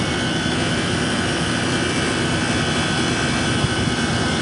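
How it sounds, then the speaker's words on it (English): An HVAC air conditioner's compressor and fan motor run with a loud, steady, broadband whooshing roar that holds constant throughout, close up and with no talking. "So we're going to turn it on. Compressor's on."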